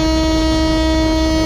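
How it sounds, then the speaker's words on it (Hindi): Locomotive horn in Trainz Simulator 12, an Indian Railways train, sounding as one loud, steady sustained tone that fills the whole moment. "ये लो जी हॉर्न भी बजा दिया यार इन्होंने"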